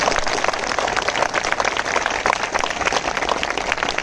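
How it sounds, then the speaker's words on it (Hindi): Audience applause at a public speech event about a state teachers' selection board, a dense, steady patter of many hands clapping throughout, moderately loud and continuous without a clear beat. "आप लोगों की कमजोर तालियों के लिए बेहद शुक्रगुजार हूँ"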